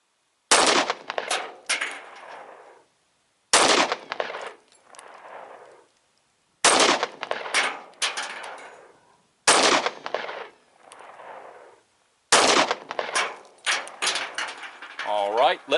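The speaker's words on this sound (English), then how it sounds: "this is the first 5 rounds of the 155 grain frangible. We're going to go for the center target, make sure it functions the gun" Five-round strings of 155 grain frangible .45 ACP fired at a range target, sharp loud gunshots in tight bursts separated by pauses, with brief echo trailing each group.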